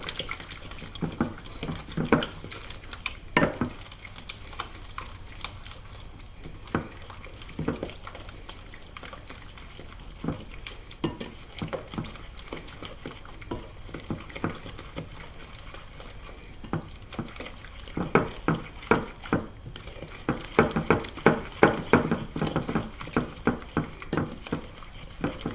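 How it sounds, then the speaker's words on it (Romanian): Cake batter with egg being stirred in a bowl for a homemade cake, giving steady wet slapping and light clicking strokes that continue unbroken for the whole stretch at moderate loudness. "Începem să amestecăm din nou."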